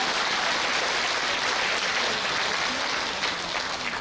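An audience breaks into sustained applause, a dense even wash of many hands clapping at a steady level for several seconds, somewhat distant and without voices on top.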